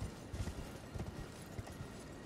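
Horse hooves thud on the ground as a mount gallops and jumps in Elden Ring, a quick run of muffled beats under a loud, dense game soundscape with no voices.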